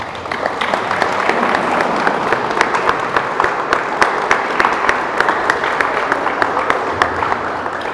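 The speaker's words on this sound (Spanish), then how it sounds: "Un fuerte aplauso, hermanos." Wedding guests in a church applauding during the ceremony, a strong sustained burst of crowd clapping with distinct individual claps standing out, loud and continuous throughout.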